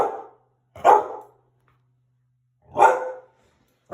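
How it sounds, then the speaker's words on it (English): A dog barking indoors at a delivery arrival, three loud, close single barks spaced a second or two apart with quiet between them. "That's my dog."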